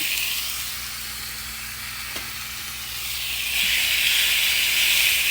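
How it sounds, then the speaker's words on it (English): Meat searing in an oiled skillet over high heat gives a steady, close hiss and sizzle that swells louder toward the end, with a couple of faint clicks and no talking. "I do have the heat up high so I can get this seared."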